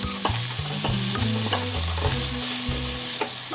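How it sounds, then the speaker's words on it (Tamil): Continuous frying sizzle with repeated stirring scrapes and clanks as banana stem is dry-fried in an iron pan, steady and close, no voices. "நல்லா நம்ம வந்து ட்ரையாக வதக்கிக்க போகிறோம்"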